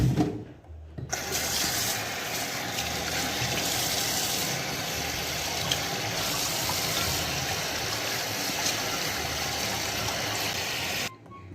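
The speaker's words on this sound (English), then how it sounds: "what I'm going to do is to rinse it out and then add some water" Running water rinses salted smoked herring in a kitchen while preparing Grenadian fishcakes, a steady continuous splashing flow that starts abruptly and cuts off near the end, with no talking.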